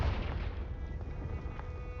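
Confringo fire spell exploding in the Hogwarts Legacy video game, a low booming burst at the start that rumbles and fades over two seconds, with no talk.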